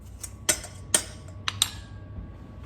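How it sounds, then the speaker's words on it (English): A fork works butter into a flour and sugar mixture in a bowl for a fruit cobbler, sharp metallic clinks against the bowl coming four times at irregular intervals, close and clear, with no talk. "take a fork or a pastry blender and just work that butter in"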